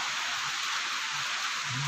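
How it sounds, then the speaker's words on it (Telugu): Rain falling outside an apartment building during a storm, a steady hiss of even downpour heard from indoors, with no voices. "చూడండి వర్షంలో ప్రకృతి ఎంత అందంగా ఉందో"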